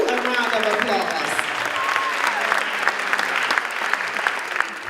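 A graduation crowd claps for eighth graders in a continuous, loud round of applause that holds steady throughout, with voices faintly mixed into the clapping.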